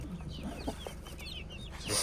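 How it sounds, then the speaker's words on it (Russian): Chicks on a village farm peep and cluck, with soft overlapping calls close by against a busy background, a louder burst of peeping near the end, and no clear talk. "Цыплятки, да, цыплятки."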